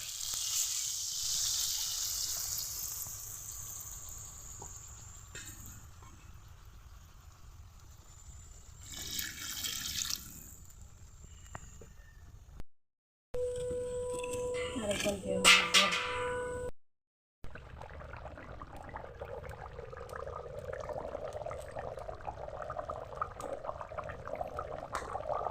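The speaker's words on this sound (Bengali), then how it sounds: "আর এখন দিয়ে দিব জল।" Water is poured into a pan of fried chicken and potatoes for a chicken curry, giving a soft running splash and gentle sizzle that go on for a long stretch with brief breaks.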